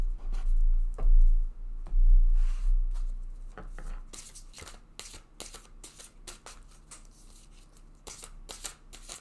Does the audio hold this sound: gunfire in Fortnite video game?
no